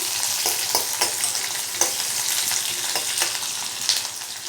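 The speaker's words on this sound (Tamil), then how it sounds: "பாருங்கள், வெங்காயமும் வதங்கிடுச்சு." Chopped onions sautéing in a pan for peanut chutney, a steady close sizzle with faint scrapes and stirring taps throughout, and no voices.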